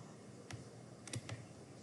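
Keys on a computer keyboard are tapped a few times in quick succession, sparse crisp clicks in a quiet room.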